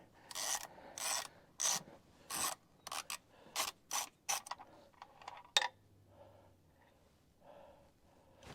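Ratchet on a 1/2 inch drive wobble extension working a plug loose, heard as a series of short rasping clicking strokes at close range, fairly quiet, then a few softer scrapes.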